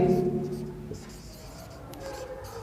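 Chalk or marker writing a sentence on a classroom board during an English grammar lesson, a soft continuous scratching and rubbing with a few short strokes, heard alongside a teacher's speech.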